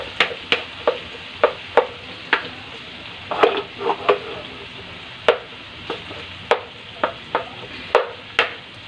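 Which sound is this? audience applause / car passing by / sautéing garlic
sautéing garlic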